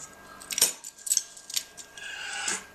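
Metal keys on a keychain jangle and clink in several quick bursts, bright and close, with short pauses between the shakes and no speech.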